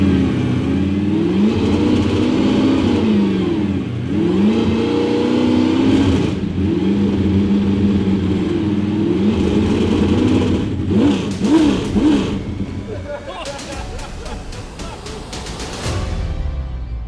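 A Nulon Racing Supercar, freshly stripped and rebuilt, fires its engine and revs repeatedly, with loud rising and falling surges close by before settling toward a rougher idle with sharper bursts.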